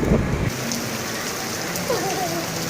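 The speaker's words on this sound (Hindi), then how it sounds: "बारिश में गीले हो जाओगे" Steady rain falls outdoors under heavy clouds, a dense, even wash of drops on surfaces that runs unbroken throughout, with a brief voice and some low thumps near the start.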